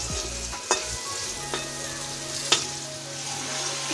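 Pieces of potato and pointed gourd sauté with spices in hot oil, a close, steady sizzle punctuated by three distinct knocks of a stirring spoon against the pan.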